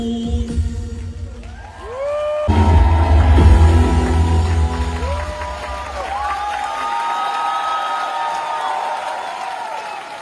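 Applause and ovation from a concert hall audience, a dense steady roar of clapping and cheering that swells loud and then holds, with music tones audible over the crowd.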